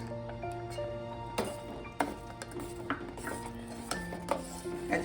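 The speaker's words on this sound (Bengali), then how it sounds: "কাজু কিশমিশটা দিয়ে কিছুক্ষণ নেড়ে" Cashews and raisins stirred in a pan for mango payesh: a spoon scrapes and clinks against the metal in irregular strokes, with sharper knocks at intervals over a steady background hum.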